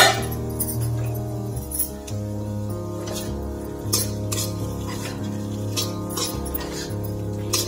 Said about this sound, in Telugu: కర్రీ ఎంతవరకు వచ్చిందో ఒక్కసారి మూత తీసి చూద్దామండి.